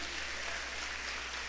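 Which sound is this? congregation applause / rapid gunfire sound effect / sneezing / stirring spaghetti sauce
congregation applause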